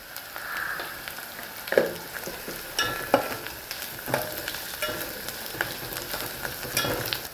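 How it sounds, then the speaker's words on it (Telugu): Ginger garlic paste is stirred while frying in a pan, a soft continuous sizzle broken by scraping and tapping strokes from the spoon. The sound stays fairly quiet and there is no speech. "అల్లం వెల్లిపాయ పేస్ట్ వేసుకొని మంచిగా కలుపుకోవాలి"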